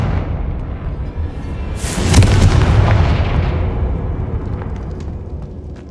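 A Confringo fire spell explodes in Hogwarts Legacy: one loud, broad fiery blast that swells up and then fades into a long rumbling tail over a steady low background roar.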